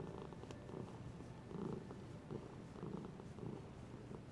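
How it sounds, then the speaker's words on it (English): A contented domestic cat purrs steadily and close up, its low rumbling pulses rising and falling in an even rhythm with no talking over it. "He is purring really hard."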